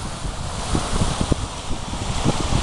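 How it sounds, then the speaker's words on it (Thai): Water spilling over a drop in level at a beach in Ottawa in spring, a continuous loud rushing wash with wind noise buffeting the microphone and no voices. "อันนี้เสียงน้ำนะคะเสียงน้ำที่ตกลงมาไม่ใช่น้ำตกนะคะแต่ว่า"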